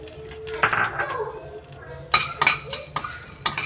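Cumin and pepper dry roasting in a hot pan, with a spoon scraping and clinking against the metal in short bursts and a faint sizzle, a voice talking briefly.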